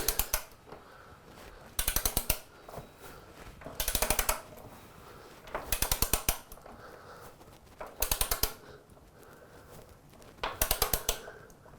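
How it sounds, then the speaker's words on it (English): A torque wrench ratchets on the rear axle of a Yamaha R6 being set to 80 foot-pounds, with six sharp bursts of rapid metallic clicking, each about half a second long and roughly two seconds apart, close by with no talk. "We'll just tighten it up until we feel it click."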